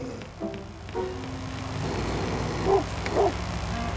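A dog in the video game Robbery Bob 2 gives several short yips and barks, some whimper-like, over a steady game soundtrack, moderately loud with no talk.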